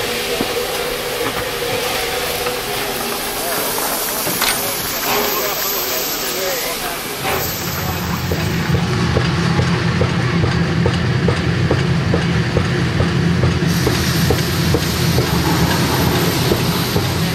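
A Santa Claus steam locomotive train running between Seinäjoki and Koskenkorva, loud and close, with steady rumbling wheels, rhythmic clatter and hissing steam, plus a high whistle near the start.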